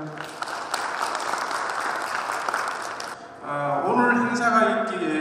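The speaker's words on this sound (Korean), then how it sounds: "박수 부탁드립니다." Sustained audience applause at a hometown association's chairman inauguration ceremony, steady and fairly loud for about three seconds before it gives way to a speaker's voice.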